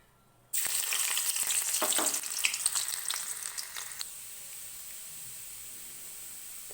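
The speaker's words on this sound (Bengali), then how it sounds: "তো তেলে আমি প্রথমে এই রসুন কুচিটা দিয়ে দেবো" Chopped garlic hits hot mustard oil with a sudden loud sizzle that crackles and spits for a few seconds, then settles into a steady, quieter frying hiss.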